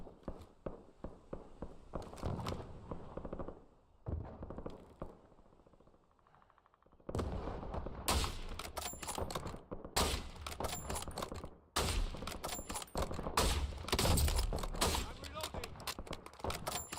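Bursts of rapid fire from a VX compact submachine gun in Warzone, sharp clustered shots close by, starting after a quiet stretch and repeating in several loud volleys with footsteps in between.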